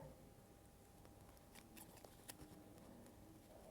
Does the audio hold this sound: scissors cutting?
yes